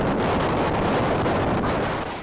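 Loud, roaring wind at a swim spot in Ibiza buffets the microphone continuously, a dense rumbling gust with no pauses and no voices.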